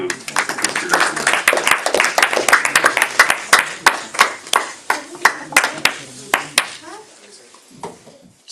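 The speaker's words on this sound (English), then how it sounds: "Big round of applause to Kirtida Kumari." Audience at a spiritual talk claps, first as dense overlapping applause, then thinning into distinct sharp claps that gradually space out and fade, with a faint voice under it.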